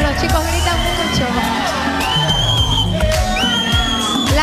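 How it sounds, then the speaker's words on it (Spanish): A lingerie runway contest audience of boys yells, whoops and cheers continuously, a loud dense crowd din with overlapping shouts throughout, tonal music-like lines running underneath. "los chicos gritan mucho."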